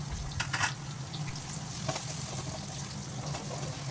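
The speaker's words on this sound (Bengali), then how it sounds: "পেঁয়াজটাকে আমি ভালো করে ভেজে নিয়েছি" Onions fry in hot oil in a wok with bay leaf and whole spices for a chicken curry, a soft, continuous sizzle with occasional light stirring scrapes close by.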